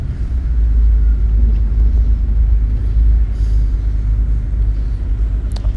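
Interior of an intercity bus cruising along the Pantura highway near Karawang: a loud, constant low rumble of engine and road noise with faint rattles and no talking.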